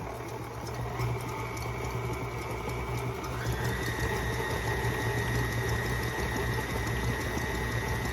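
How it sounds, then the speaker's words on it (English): An electric mixer whirs steadily, blending a cup of egg whites at low speed: a continuous mechanical drone with a constant motor whine that holds even throughout, close by and with no voices. "And we're going to blend that for about 5 minutes."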